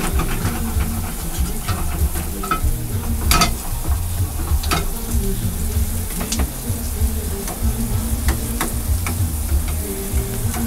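Food fries in ghee in a busy Indian food shop kitchen in Berlin, a loud continuous sizzle and hiss with stirring clatter and occasional sharp metal knocks.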